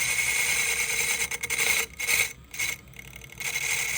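A Seth Thomas clock ring gear, held in a wooden chuck on a lathe, has its inner diameter trued by a cutting tool. A steady close scraping rasp is broken by a few short gaps.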